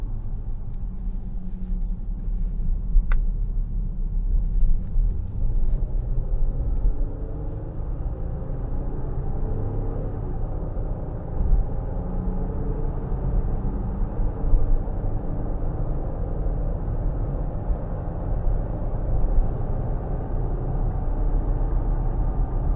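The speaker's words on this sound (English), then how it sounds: "So I'm going to put it in the sport mode just to accelerate." A 2023 Nissan Pathfinder Rock Creek accelerates in sport mode under moderate throttle, heard from inside the cabin as a steady low engine rumble with road noise that holds at a fairly even level for over twenty seconds, with no talking.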